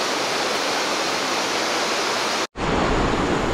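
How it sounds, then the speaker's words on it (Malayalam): The Chinnar river in Chinnar Wildlife Sanctuary rushing past a log house, a loud, constant broadband roar of flowing water that cuts out for an instant near the end before resuming. "നമ്മുടെ സ്റ്റേയുടെ ഫ്രണ്ടിൽ കൂടെ ചിന്നാർ ഒഴുകുന്ന ഒരു ഭംഗിയാണേ"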